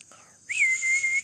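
A person whistles to call a dog while exploring alone at night in an abandoned bungalow, one short faint note followed by a single loud sustained whistle that rises and holds steady, close by.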